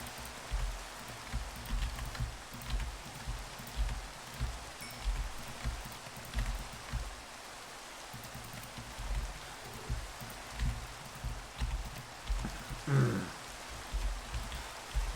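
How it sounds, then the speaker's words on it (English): Steady, loud rainfall pours down in a castle-building video game, a dense continuous hiss with pattering drops, and low rhythmic thumps of game sounds pulse underneath. "the fucking rain is so loud in this game"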